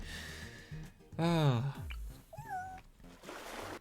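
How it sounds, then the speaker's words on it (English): A cat meows once in Bloons TD6, a clear rising-falling cry, among scattered short electronic game effects and brief tones. "I love how all of the animals make noises when you spawn back in."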